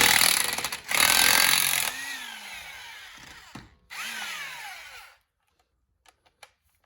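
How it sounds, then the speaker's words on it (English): A power tool whines in loud bursts, rising and falling in pitch, as it spins lug nuts off a wheel of a 2013 Dodge Avenger during a tire rotation, then cuts out and leaves a few faint clinks. "I'm going to slide back over here and take this lug nuts out"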